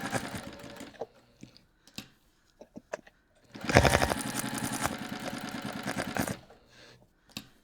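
A sewing machine stitching a bag gives a few short isolated clicks and bursts before running in one sustained, loud whirring stretch of stitching for about two and a half seconds, then stopping, followed by light handling taps.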